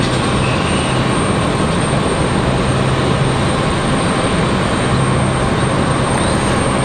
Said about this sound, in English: JetBlue and that A220 headed it back to New York